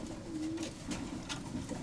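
A pet pigeon, a young Odesa-breed male, coos in soft low repeated calls close by, with a steady background hum and no talk.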